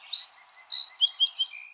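A song sparrow sings a bright, high-pitched phrase: quick introductory notes run into a rapid buzzy trill, then scattered chirps that fade out. The bird is fairly close and heard alone.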